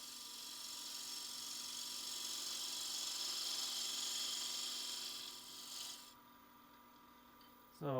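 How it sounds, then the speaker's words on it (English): Sandpaper rubbing a spinning holly wood lidded vessel on a lathe, a steady broad rasp over the motor hum that fades out near the end, followed by a short scrape. "So let's sand this surface again"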